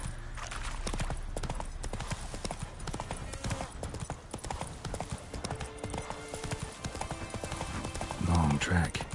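Roach, a horse in The Witcher 3: Wild Hunt on PS5, gallops in a fast, continuous clip-clop of hooves with game music and effects layered over it, ending in a brief neigh or whinny.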